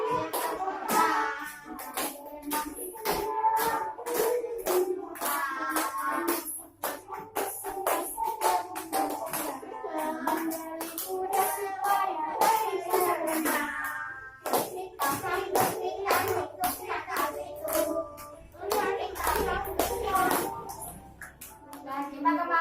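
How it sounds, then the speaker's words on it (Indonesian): A third-grade primary school class claps hands in a steady rhythm while voices sing and speak along, the claps sharp and regular throughout. "Ayo tepuk tangan."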